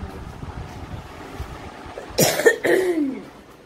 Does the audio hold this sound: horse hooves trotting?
no